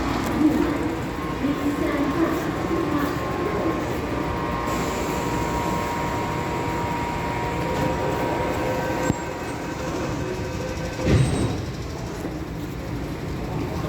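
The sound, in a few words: MTR train leaving Nam Cheong station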